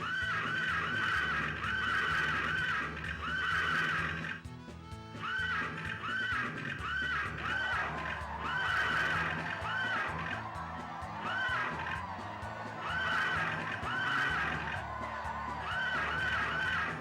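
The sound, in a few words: horse neighing in a video game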